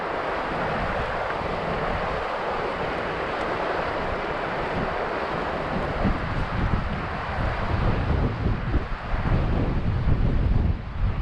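Strong wind buffets a Hilleberg Allak tent pitched on flat ground while wild camping in Scotland, a dense, continuous roar with gusty flapping and rumble that grows heavier in the second half; no talking.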